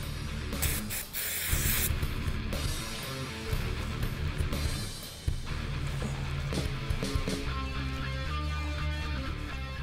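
Solvent sprayed to clean up around a newly installed headliner in a 1965-1968 Fastback Mustang, heard as close, loud, nearly continuous hissing spray bursts with no talk.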